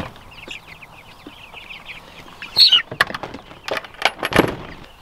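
Meat chickens on a backyard farm cluck and chirp nearby in scattered bursts, followed by a few louder knocks and rattles from something being handled.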